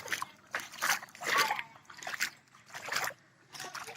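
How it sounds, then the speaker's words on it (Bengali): Rain patters and splashes in uneven surges, fairly faint, rising and easing every second or so with no voices. "যেভাবে বৃষ্টি নামছে"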